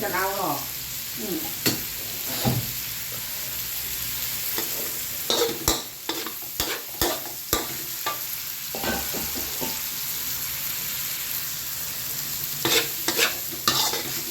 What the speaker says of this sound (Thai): เดี๋ยวผัดให้แห้งอีกหน่อย าแห้งไม่ให้มีน้ำ